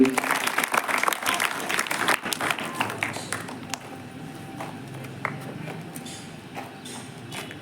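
Students applaud a classmate walking to the dais at a school Teacher's Day celebration, brisk clapping for about three seconds that fades to scattered claps and room quiet.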